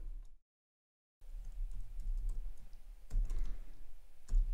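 Code being typed on a computer keyboard while filling in a web app form, a steady run of soft key clicks after a brief pause of silence, close and alone with no talk.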